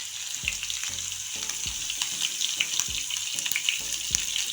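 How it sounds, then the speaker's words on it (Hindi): Cumin, asafoetida and green chillies fry in hot oil with a steady, close sizzle and crackle, a constant hiss layered with rapid spitting pops and no voices. "अब इसमें हम 1 छोटी चम्मच जीरा, 1 पिंच हींग, कटी हुई हरी मिर्च"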